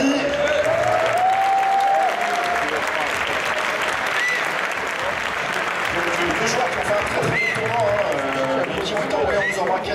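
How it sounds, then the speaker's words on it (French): Loud, sustained applause from an esports tournament crowd at a Super Street Fighter 2X final, with cheers and whoops rising over the clapping throughout. "Allez, on les applaudit."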